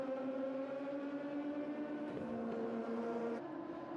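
Radical race cars at Yas Marina Circuit battling around turn 16, a steady high-pitched engine drone with sustained tonal whine, moderately distant and continuous, one note shifting partway through as cars pass.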